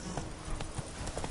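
The horse Roach galloping in a PS4 video game, quick quiet hoofbeats in an uneven clip-clop rhythm, fairly faint and brief.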